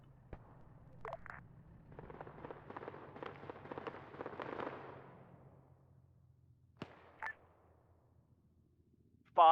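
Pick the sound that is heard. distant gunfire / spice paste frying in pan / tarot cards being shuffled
distant gunfire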